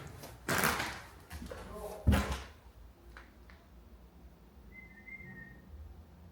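Faint, distant whistled notes late in the clip, after a couple of loud thuds like a door or drawer banging nearby, inside the abandoned Wellington Rooms in Liverpool.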